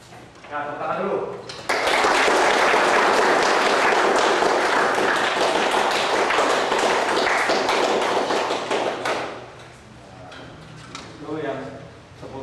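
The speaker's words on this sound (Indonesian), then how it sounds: "Ya, tepuk tangan dulu." Loud group applause from a large assembled cadet class, a dense sustained burst of clapping lasting several seconds before tapering off, with spoken instructions before and after.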